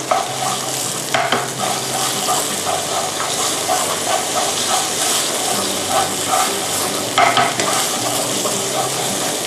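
Thai curry paste stir-fried in a hot pan for spicy catfish, a loud, continuous sizzle and hiss with rhythmic scraping from the spatula and a couple of sharper bursts.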